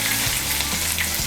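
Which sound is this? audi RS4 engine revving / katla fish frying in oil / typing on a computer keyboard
katla fish frying in oil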